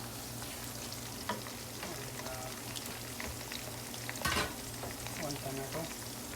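Green chilies, cashews and tomato fry in a pot for mutton biryani, making a continuous, moderate crackling sizzle with occasional stirring scrapes; a voice briefly speaks over it.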